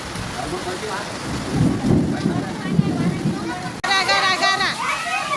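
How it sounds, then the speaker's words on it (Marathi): Heavy rain pours down during a windy storm, with hailstones falling, making a loud, dense rush that swells midway and then turns into a harder, busier patter. Excited voices talk over it. "बघा बघा गारा पडायला"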